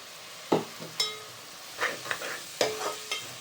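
Masala for a dry fish curry, with coriander seeds added, being stirred in a pan, giving a few separate bursts of scraping and soft sizzle with quiet gaps between them.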